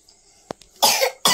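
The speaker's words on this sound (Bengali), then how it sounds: "কাশিটা এখনো কমেনি।" A young girl coughs twice, close and loud: one harsh burst followed by a second short cough after a brief pause. She is sick and has been coughing for days.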